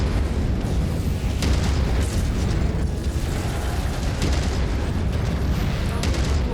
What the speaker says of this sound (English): We're just gonna shoot missiles.